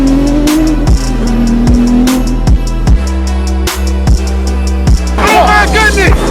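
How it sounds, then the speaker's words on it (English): A twin-turbo car engine revs hard and loud up close in a shop setting, climbing through repeated bursts with sharp shifts in pitch, with mechanical clatter and faint voices underneath. "Twin turbo."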